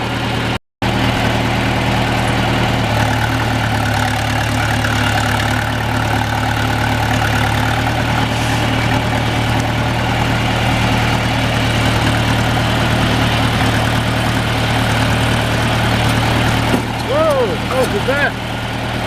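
A tractor engine idles steadily and loud throughout, a constant low rumble while feeding cattle hay bales, with faint brief voice sounds near the end.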